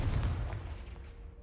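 A Confringo explosive spell in Hogwarts Legacy lands as a single deep boom, loud at first and then tailing off into a fading rumble.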